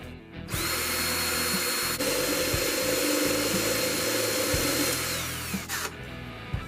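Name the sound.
power drill drilling a ukulele kit part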